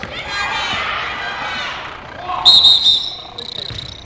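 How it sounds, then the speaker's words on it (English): A referee's whistle shrills loudly twice in a girls' high school basketball game in a gym, cutting over an announcer's running commentary and crowd noise, followed by the squeak and thud of play resuming. "whistle's blown, jump ball"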